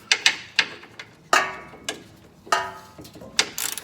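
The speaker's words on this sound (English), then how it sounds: "Now we're going to loosen the sway bar." A ratchet works loose a 13 mm sway bar bolt on a vehicle. Sharp metallic clicking bursts sound up close, each followed by a brief pause.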